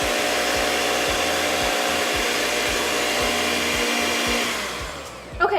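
A stand mixer with a dough hook kneads pink candy dough, giving a steady, loud motor whir with regular rhythmic thumps, then winding down at the end.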